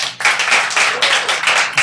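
Loud, close applause in a church service, a dense burst of clapping that comes in short surging waves with brief dips between them.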